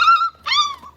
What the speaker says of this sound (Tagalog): meron nang tumatahol-tahol tsaka umiiyak-iyak dito